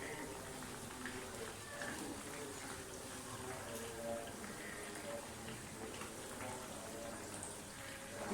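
Chicken fries in an uncovered pan with a continuous, even hiss of sizzling oil, moderately close, while a voice talks over it.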